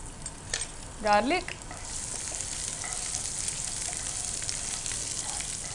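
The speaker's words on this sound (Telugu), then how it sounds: "గార్లిక్ వేసుకున్నాము, మంచిగా అది కూడా ఫ్రై చేసుకుంటున్నాము" Garlic fries in a pan for vegetable bread fingers, giving a faint, steady sizzle with a brief voice-like sound near the start.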